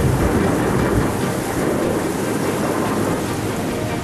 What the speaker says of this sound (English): the wind brings the long-desired rain.